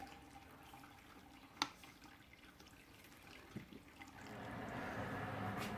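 Water draining out of a brewing vessel on a home brew day, a steady trickling flow with a few small clanks, growing louder and fuller near the end.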